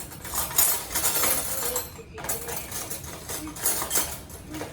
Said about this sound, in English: Find a spoon.